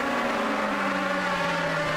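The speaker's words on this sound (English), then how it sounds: "The car's hit this restart zone right there." Race cars accelerate through the restart zone at the 2025 Cookout Summer Shootout, a sustained, loud engine drone with a steady pitch that sweeps slightly lower, sounding close and continuous with no talk.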